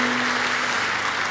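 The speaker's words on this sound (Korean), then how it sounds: "우리 아름다운 연주를 들려준 팀에게 다시 한번 감사의 박수 드리도록 하겠습니다" A church young adults' congregation applauds the music team after their performance, a steady, dense wash of clapping that holds evenly throughout with a faint tonal hum underneath.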